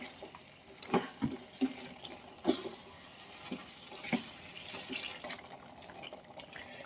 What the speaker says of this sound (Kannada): ಈಗ ಎಷ್ಟು ಬೇಕು ನೋಡಿ ಅಷ್ಟು ನೀರು ಹಾಕ್ಕೊಂಡೇನಿ